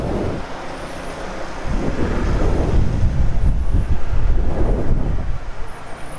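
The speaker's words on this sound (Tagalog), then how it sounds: "Yan, medyo malakas yung hangin" Strong wind blows outdoors in the Philippines, where trees and plants sway, producing a steady, loud low rumble and gusty buffeting close to the microphone throughout, with no clear voices.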